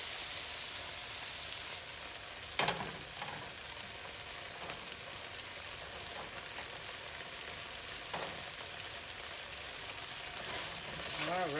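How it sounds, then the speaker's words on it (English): Shrimp sizzle steadily in a pan for risotto, a soft continuous hiss with an occasional stir or clatter, quiet and close, while a voice speaks now and then. "it doesn't take long at all for that shrimp to cook"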